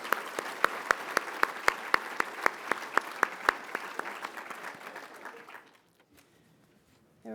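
An audience at a nuclear industry plenary meeting applauds the speakers, steady crowd clapping with a few sharp, near claps standing out, dying away after about six seconds.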